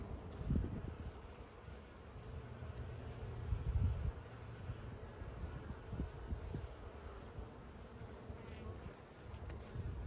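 Honey bees droning steadily from an opened hive, a close, continuous low buzz with occasional louder passes near the microphone and light wind noise, and no talking.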